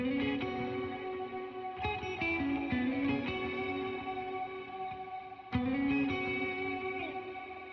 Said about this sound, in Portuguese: Eu só usei a guitarra clean com reverb e eu fiz uma dobra oitavada.